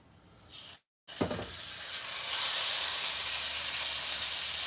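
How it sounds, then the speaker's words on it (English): A Hawaiian-style tomahawk steak searing in a hot pan, a loud steady sizzle and hiss that flares after a brief drop-out and then holds strong and close, with a low rumble underneath. "now I'm going to sear the bottom of the steak"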